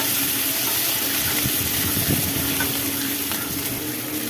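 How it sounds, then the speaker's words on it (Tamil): Small shallots and green chilies sautéing in oil in a pan for an eggplant kadayal make a loud, dense, continuous sizzle and hiss, close and unbroken, with no voices. "ஒரு 4 பச்சை மிளகாய் போட்டுக்கலாம். இது நல்லா வதக்கிக்கலாம்."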